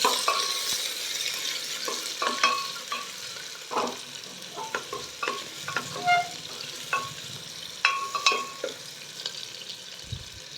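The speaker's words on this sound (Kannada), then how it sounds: "ನಾನು ಒಂದು ಮೀಡಿಯಂ ಸೈಜ್ ಈರುಳ್ಳಿನ ಹೆಚ್ಚಿಟ್ಕೊಂಡಿದ್ದೀನಿ ಅದನ್ನು ಸೇರ್ಕೊತಾ ಇದ್ದೀನಿ ಇದು ಲೈಟ್ ಬ್ರೌನ್ ಕಲರ್ ಬರಬೇಕು ಈರುಳ್ಳಿ" Chopped medium-size onion frying in oil in a pan, a steady soft sizzle broken by repeated scraping stir strokes of a spatula, close and alone with no talking.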